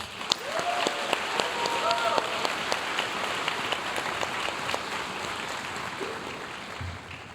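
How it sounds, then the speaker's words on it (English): Applause at an awards ceremony for staff finalists, a steady, moderately soft patter of many hands with scattered sharper claps, while faint voices and cheers rise through it. "Join us in giving a round of applause to these exceptional finalists."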